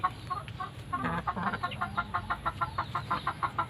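A breeding hen on a farm clucks in a close, quick series of rhythmic calls, moderately quiet against a faint steady background hum.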